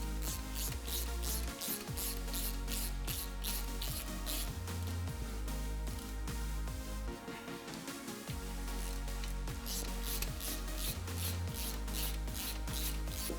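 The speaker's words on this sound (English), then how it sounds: "I'm just gonna verify them all with my ratchet before we start putting some fluid in there." A hand ratchet snugs down the Allen-head bolts on an aFe Black Pro-Series rear differential cover fitted to a Jeep JL Wrangler, giving close, crisp bursts of rapid clicking in repeated strokes with short pauses between, no talking.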